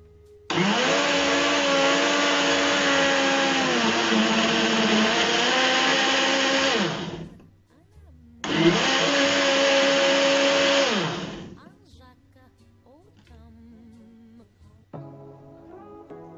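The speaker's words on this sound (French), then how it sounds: "Je vais mixer une première fois pour libérer un peu de la place dans le mixeur pour ajouter mes bananes." Blender whirring loudly to mix milk and fruit into a smoothie, running in two long bursts of several seconds with a short pause between, the motor pitch dipping under load, then quieter kitchen sounds afterward.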